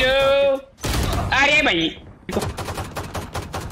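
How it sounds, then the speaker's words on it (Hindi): Gunfire in Valorant crackles in sharp bursts, with rapid close shots in the second half, while someone speaks excitedly over and between them. "इतनी देर से गोलियां चला रहा हूँ"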